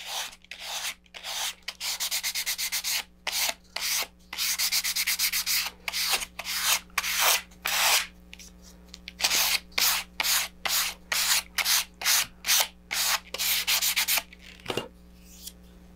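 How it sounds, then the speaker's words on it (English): Sandpaper rubbing along the paper-covered edges of model rocket fins, close up, in quick repeated strokes with short pauses between bursts; no one talks. "You're just sanding away the paper."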